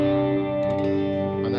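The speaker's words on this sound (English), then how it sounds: "This uses a modulation delay" Guitar tone run through a modulation delay pedal on a worship pedalboard, with sustained shimmering chorus-like repeats and steady distorted tone filling the short passage at an even, loud level.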